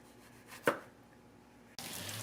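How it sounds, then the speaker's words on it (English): A knife slices through a tomato on a cutting board in a home kitchen, giving one sharp, close cutting knock followed by quiet. "Grab our tomato. Cut a couple of slices."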